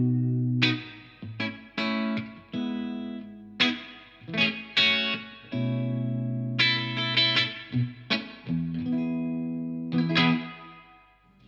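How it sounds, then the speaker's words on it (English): Electric guitar played through a Blackstar TV-10B small valve amp with its digital reverb turned up, clean picked chords and single notes ringing out in phrases with a spacious reverb tail, no talking. "And whilst it is a digital reverb, it's a very nice sounding digital reverb."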